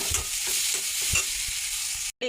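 Onions sauté in oil left from frying sardines, a close, continuous sizzle broken by rhythmic scrapes of a spoon stirring the pan, stopping abruptly near the end.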